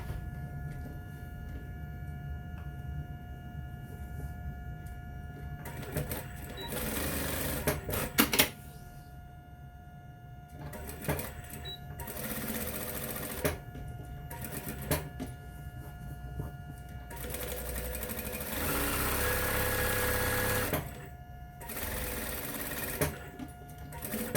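A sewing machine stitches a fabric dart bag in several bursts of rapid, steady mechanical whirring, close and fairly loud, with quiet pauses between the runs.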